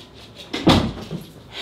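A knock or thud at a home door interrupts a makeup routine: one short, loud impact around mid-clip, alone against quiet room tone.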